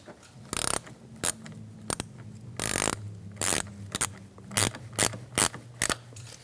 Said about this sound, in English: Start by putting your positive terminal on first. Push it down and tighten it up.